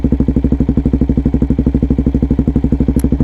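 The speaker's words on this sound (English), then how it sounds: "I've got the straight through unmitigated MRD Pro Shorty exhaust pipe, no baffles" A Suzuki DRZ400 idles with an MRD Z-Pro shorty straight-through exhaust and no baffles, giving a loud, steady, rapid thumping pulse that stays even throughout, with one brief high click near the end.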